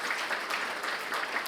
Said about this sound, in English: let's give them a round of applause for being so amazing and protecting our country every single day.